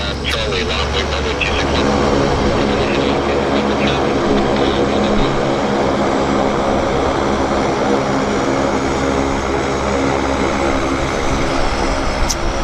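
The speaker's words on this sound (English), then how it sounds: "we've got a Q400 that's already on the roll" A Q400 turboprop rolls for takeoff at Vancouver airport, its engine drone steady and loud throughout, with a voice talking over it.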